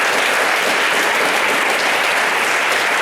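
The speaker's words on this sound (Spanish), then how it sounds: "Creo que le doy un aplauso al Señor." A church congregation claps loudly and continuously, a dense steady wash of applause with no voices standing out.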